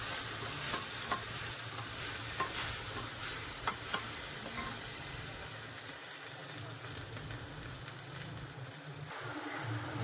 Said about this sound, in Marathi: आता आला लसूणची पेस्ट चांगली परतवून घेऊया